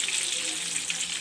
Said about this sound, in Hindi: इस तरह से मैं मुझे जितनी ज़रूरत होगी मैं उतने कबाब फ्राई कर लूँगी